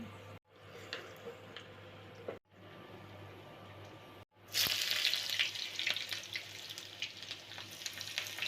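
Bay leaf and dried chili hit hot oil in a village kitchen, and after a few quiet moments a bright, crackling sizzle bursts up and keeps spitting and hissing steadily.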